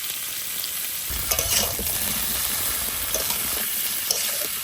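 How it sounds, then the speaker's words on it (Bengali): Potatoes, pumpkin, sweet potato and papaya with turmeric and salt stir-fried in a pan, a steady loud sizzle with scraping stirs of the spatula repeating close by. "আলু কুমড়ো এগুলো কষানো হয়ে গেছে।"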